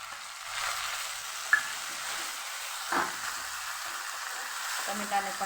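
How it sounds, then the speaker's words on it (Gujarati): Onions and tomatoes sauté in a pan for a Kathiyawadi besan curry, giving a soft, steady sizzle with a few faint stirring scrapes. "ડુંગળીને આપણે હજી ટ્રાન્સપરન્ટ થાય ત્યાં સુધી આપણે એને સાતડવાની છે"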